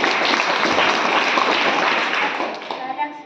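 An audience bursts into loud, dense applause, a sustained wash of clapping that holds steady before tapering off in the final moments.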